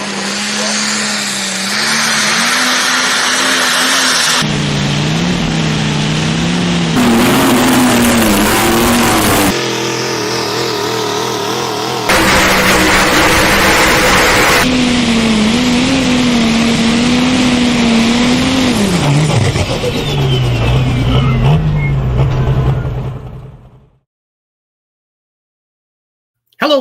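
John Deere tractor from O'Keefe, Iowa at a tractor pull, its engine roaring loud and sustained for over twenty seconds with rising and falling revs, then cutting off abruptly into silence.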